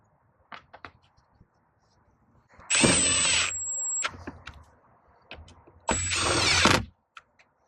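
A power drill drives screws into the air filter housing of a 6.7L Cummins Ram truck, two close, whining bursts of about a second each with faint handling clicks around them.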